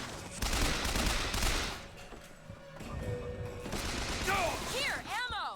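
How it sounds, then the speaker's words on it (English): Rapid bursts of gunfire from a gun in the video game Bioshock Infinite, loud and dense through the first seconds, then scattered shots and thuds with whooshing effects, under occasional talk. "why does the gun keep shooting?"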